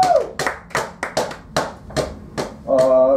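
Sparse, individual handclaps from a small audience at a public-speaking class, about eight distinct claps in a slow uneven rhythm, with a brief voice at the start and end.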